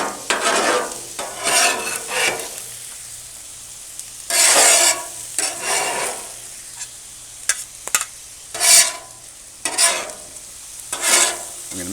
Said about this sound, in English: We're going to take these onions that we cooked earlier and we're going to add them into the steak.